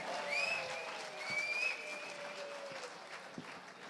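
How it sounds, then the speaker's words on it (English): Soft, distant applause from guests at a formal chartered ball raffle, a faint steady patter with a few whistles or squeals rising above it. "A big round of applause, ladies and gentlemen."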